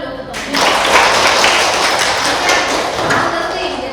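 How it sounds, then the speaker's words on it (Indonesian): An audience in a classroom breaks into applause: a sudden burst of dense, loud clapping that starts after a brief pause and holds steady for several seconds, with voices mixed in. "Tepuk tangan dulu untuk"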